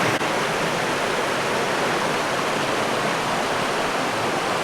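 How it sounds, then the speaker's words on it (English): Trout Creek rushes loudly and steadily along a Washington trail, a dense broadband roar of flowing mountain water heard close and alone with no voices. "This is Trout Creek."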